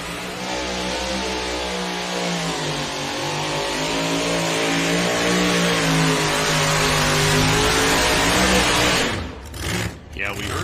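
A pulling truck's engine roars steadily at full power as it runs down the track at a truck and tractor pull, loud and sustained with the pitch shifting slightly, then cutting off sharply near the end.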